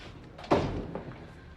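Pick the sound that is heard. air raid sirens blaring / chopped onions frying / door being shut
door being shut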